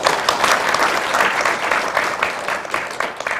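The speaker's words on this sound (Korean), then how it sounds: "다시 한번 박수 한번 보내주세요." Audience at a tenth-anniversary agricultural debate forum applauds, a dense, even wash of clapping that holds steady throughout with no talk over it.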